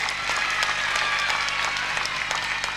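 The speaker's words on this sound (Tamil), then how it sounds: "அவருக்கு மிகப்பெரிய கைத்தட்டல் கொடுக்கணும்னு" An audience bursts into sustained, loud applause for a speaker at a Lawrence Abayam Foundation event, dense clapping holding steady throughout with no talk over it.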